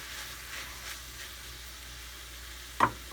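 Meat fries in a pan for a pasta sauce, a steady close sizzle with soft stirring scrapes and a sharp clatter near the end.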